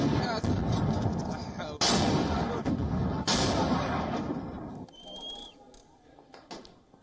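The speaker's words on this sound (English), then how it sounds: "gunfire could be heard in several parts of Khartoum and adjoining cities" Heavy booming blasts and bursts of gunfire crackle in a dense, loud barrage during armed clashes in Khartoum, with sharp reports punctuating a rumbling backdrop before it thins out.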